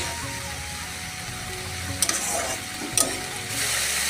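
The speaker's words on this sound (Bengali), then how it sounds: "এভাবে নেড়ে চেড়ে টমেটোর সাথে ঝিঙ্গে আলুটা মিশিয়ে নেব।" Ridge gourd, potato and tomato frying in a pan while being stirred, a constant sizzle broken by a few scraping stir strokes and clinks, with no talk.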